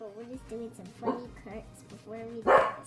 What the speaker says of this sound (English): that's our dog. She's barking at the wind